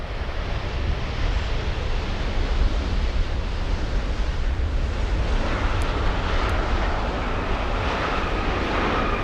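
A Fiji Airways airliner arriving on the rarely used north side runways at LAX, a loud steady broadband jet roar that fills the whole clip at close range and swells slightly toward the end, with no talking.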